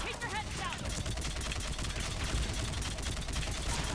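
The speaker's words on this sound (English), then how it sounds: "let me demonstrate why the Phaeston is my favourite weapon in the game" A Phaeston assault rifle in Mass Effect 3 fires in a dense, rapid automatic stream, loud and continuous, with a brief voice at the very start.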